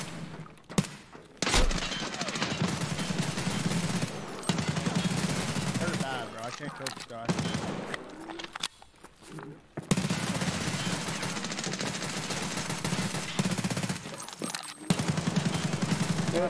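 Rapid bursts of video game gunfire crackle in fast, dense volleys, separated by brief pauses and abrupt cutoffs, with a voice talking in between the shots.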